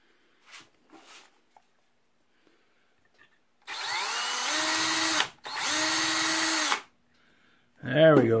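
A power drill whirs in two sustained bursts while repairing a Howard Miller grandfather clock's pendulum, each ramping up and running steadily, with a brief pause between and quiet handling noises before.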